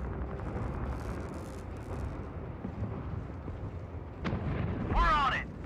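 Rocket artillery in Company of Heroes 3, a World War II strategy game, with a low rumbling battle bed, a sharp blast, then a whooshing, screeching rocket burst near the end over a brief voice line.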